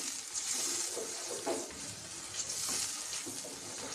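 Masala paste sautés in oil over a low gas flame for a Maharashtrian patwadi rassa, a soft continuous sizzle with faint stirring sounds, quiet and close with no speech.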